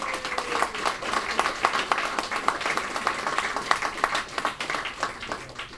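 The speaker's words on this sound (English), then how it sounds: "So let's give a really big round of applause for Bandura." An audience at the 2018 Mind Sports Olympiad claps steadily for Bandura, a dense, sustained wash of many hands at moderate distance, with a faint voice briefly over the start.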